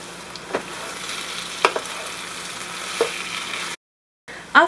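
Basmati rice being stirred into beef in a pot, a low steady sizzle with a few scraping knocks of the spoon, close and quiet, cut by a brief silence before a last scrape.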